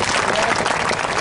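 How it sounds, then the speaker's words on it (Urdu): Steady, dense applause from an audience at a Saraiki poetry gathering (mushaira), a continuous loud wash of clapping throughout. "تالیاں بھائی تالیاں"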